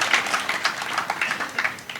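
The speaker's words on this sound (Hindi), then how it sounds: "जोरदार ताली बजा के स्वागत कीजिए।" An audience at a Satpath Satsung spiritual gathering claps heartily, a dense patter of many hands with rhythmic surges, moderately loud and without talk.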